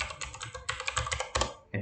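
Rapid keystrokes patter on a computer keyboard while a command is entered, a close and fairly quiet run of irregular taps that ends with a louder final key press.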